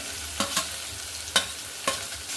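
Onion and tomato going into a frying pan of hot oil with cumin, mustard seeds and curry leaves for a pumpkin dish, a steady soft sizzle broken by a few sharp stirring scrapes, with no talking.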